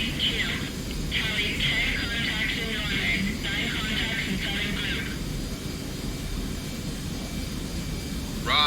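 A jet aircraft engine from the flight simulator DCS holds a steady, loud roar throughout, with clipped radio voices talking over it in the first half.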